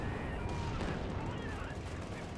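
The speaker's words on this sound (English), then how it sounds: "Tiger tank bouncing a few shots here from the 6-pounder gun front here from Vic and Kamoos" Dense gunfire and shell impacts in the World War II strategy game Company of Heroes 2, with 6-pounder anti-tank shots glancing off a Tiger tank. Steady, busy battle noise continues throughout with no pause.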